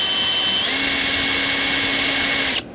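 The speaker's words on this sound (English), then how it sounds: "I'm going to make sure you're not drilling into the side of the carb" A power drill running steadily for about two seconds while boring into a Walbro SDC-48 carburetor, a loud whining motor tone that stops abruptly, with no talking.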